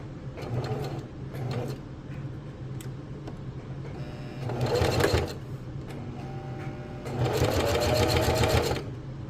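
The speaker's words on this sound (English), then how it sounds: "Then continue sewing, and we will go all the way around the top." Bursts of a sewing machine's rapid mechanical stitching run around the top of a fabric coffee sleeve, separated by quieter pauses with faint handling sounds between the runs.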